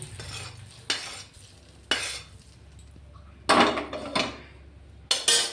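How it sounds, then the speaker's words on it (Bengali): Oil poured into Burmese grape (lotka) pickle seasoned with turmeric, salt and green chilli, then mixed with a utensil: four or five distinct bursts of scraping and clinking against the bowl, separated by quiet pauses, with no talk. "এটার মধ্যে আমি এখন তেলটা ঢেলে দেব"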